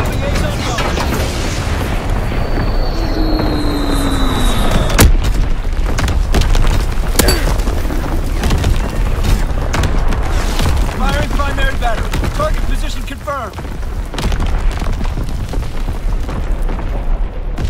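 Artillery barrage in Call of Duty WW2 team deathmatch: heavy booms and explosions crash over a continuous, dense battlefield din of gunfire and rumble, with a voice heard in the mix.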